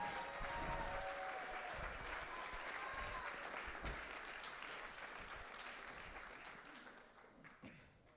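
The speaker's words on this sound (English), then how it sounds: "would you please give a round of applause for our candidates" Audience at a Kings County Board of Supervisors District 5 political debate applauding the candidates, dense sustained clapping that gradually fades over several seconds, heard at a moderate distance in a hall.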